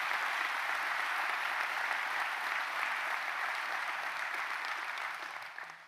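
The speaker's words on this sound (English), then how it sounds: "clap for those officers for doing a hell of a job." An audience breaks into sustained, dense applause honoring sheriff's officers at an event, a steady roar of clapping that holds for several seconds before tapering off at the end.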